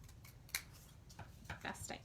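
Scissors snip through a paper storybook punch to cut it in half: a few quick, faint, crisp snips spaced irregularly, close by and quiet.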